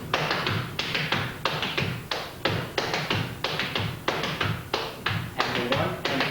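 Flatfooting dance steps tap out the Alamo with added brush strokes on a hard floor, a steady loud rhythm of sharp taps and scuffs repeating in even beats, recorded close with no talking.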